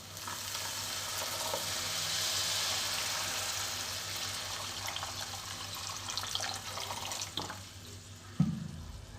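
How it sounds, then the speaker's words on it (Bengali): Water poured into a pan of simmering rohu fish curry sends up a hissing sizzle and splashing rush, easing off before a final clatter of utensils, all close by. "আমি এবার একটু জল দিয়ে দিচ্ছি।"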